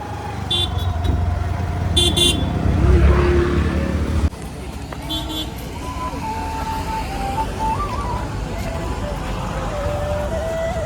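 Busy road traffic rumbles steadily, with short car horn toots sounding near the start and again around the middle, over crowd noise.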